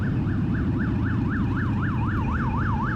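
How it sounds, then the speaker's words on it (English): A police motorcycle siren wails, rising and falling steadily over a loud engine rumble, growing stronger as it draws near during a group motorcycle ride in New Jersey. "you'll hear them creeping up with their sirens blaring"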